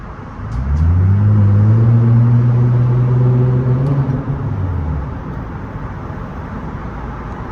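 Straight-piped Nissan Altima exhaust rumbling loudly inside a traffic tunnel, a deep sustained drone that swells and rises in pitch for a few seconds before easing back to a lower steady rumble, with no talking.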